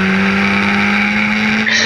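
Historic Formula Ford race cars at the Thruxton chicane, a loud sustained engine drone close by with a steady high-pitched tone as a car powers through, alone with no talk.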